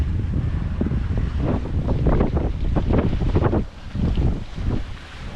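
Strong wind buffets a heeling sailboat under sail in about 17 to 18 knots of breeze, loud gusty roaring across the microphone with water sloshing, easing briefly before rising again.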